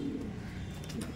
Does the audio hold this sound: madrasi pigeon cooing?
yes